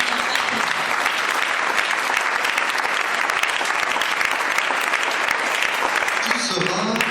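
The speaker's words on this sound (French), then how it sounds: "Là, tu peux applaudir, mon frère," A church congregation breaks into loud, dense applause, a continuous roar of clapping that holds strongly for several seconds with voices mixed in and starts to thin out near the end.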